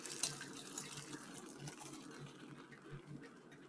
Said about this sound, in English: I am going to drain the noodles